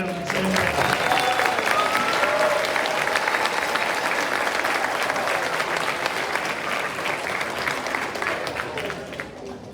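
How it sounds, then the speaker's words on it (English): An elementary school audience gives a third-grade class a long, lively round of applause before their play, dense clapping that swells early and slowly tapers, with some chatter mixed in. "let's give our third grade a round of applause"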